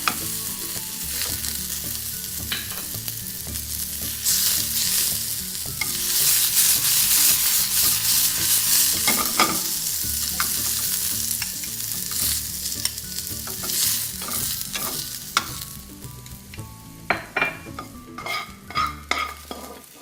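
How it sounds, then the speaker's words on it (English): Shrimp and garlic sizzle steadily in a hot pan while a utensil stirs and scrapes through them in repeated strokes, loud and close, with no talking. "That's when we add the garlic, and we can saute our shrimp."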